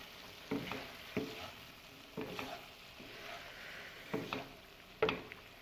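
Rice being stir-fried with cooked vegetables in a pan for chicken fried rice, with several distinct scraping stirs about a second apart over a soft sizzle.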